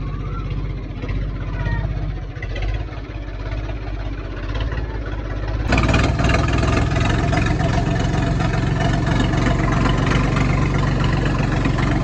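A tractor engine runs on a village farm in Bosar Kalan, Fatehgarh Sahib, as it is brought out for hauling a straw trolley: a steady, close, low diesel rumble that turns louder and fuller about halfway through, with no talk.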